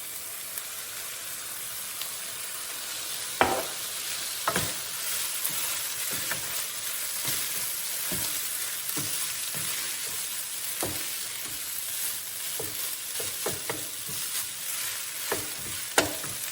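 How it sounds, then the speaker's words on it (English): Bok choy stir-fries in a pan with a splash of soy sauce, giving a steady hissing sizzle up close, punctuated by occasional sharp spatula clicks and scrapes against the pan, with no one speaking. "So now I'm going to add a little bit of soy sauce."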